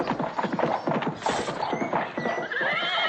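A horse pulling a cart trots with quick, rhythmic clip-clop hoofbeats, close and clear, then gives a loud neigh near the end.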